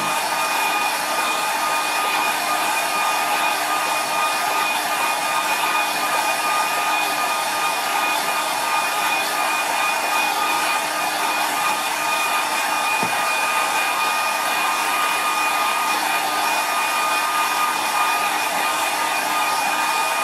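A hair dryer blows on a watercolour landscape painting, a loud, steady close-up whir that runs unbroken for the whole stretch with no talking.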